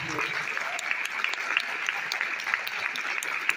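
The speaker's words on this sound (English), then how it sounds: "can we just give a round of applause to all these incredible people?" Audience applause fills a school honoring ceremony for fallen loved ones, a steady wash of many hands clapping at moderate loudness, with scattered sharper claps standing out and no pause throughout.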